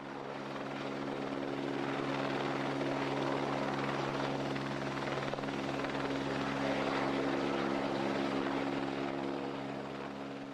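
A helicopter hovers steadily while placing heavy, swaying timber bridge hangers, its rotor and engine producing a loud, continuous drone with a constant low hum that stays near and even from start to finish.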